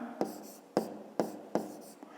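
A pen scratches on paper while a maths exercise solution is written out, giving four short, evenly spaced strokes, each a sharp scrape fading into softer trailing scratches, close and quiet.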